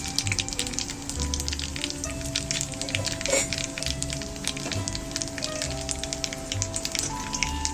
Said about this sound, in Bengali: তেলের মধ্যে কালো জিরে ফোড়ন দিচ্ছি তিনটে শুকনো লঙ্কা ফোড়ন দিয়ে দিলাম